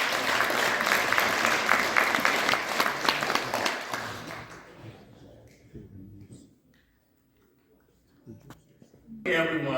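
An audience at the Las Vegas Fil Am Father of the Year Awards gives a big round of applause for Dr. Mike Santajuana, loud clapping that fades out over a few seconds into near quiet before a voice begins.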